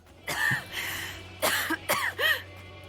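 Several harsh coughs and choking gasps from a character in Dragon Age: Inquisition, in short bursts, close and fairly loud, with brief pauses between them.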